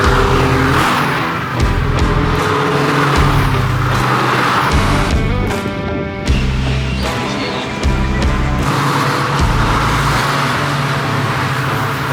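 Toyota race car at a track day driving course, engine noise loud and continuous throughout, with shifting tones and a brief dip near the middle.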